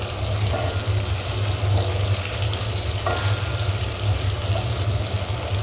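Potatoes frying in hot oil give a loud, continuous close sizzle with a steady crackling hiss throughout and no voices.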